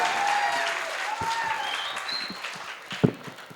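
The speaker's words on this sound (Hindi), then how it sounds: "आपने मेरे स्वागत सम्मान में जो घनघोर तालियां बजाई" Audience applause welcoming a poet onto the stage at a kavi sammelan held at an institute of technology in Ghaziabad, a moderate wash of clapping from a hall crowd that thins out, with a voice speaking over it.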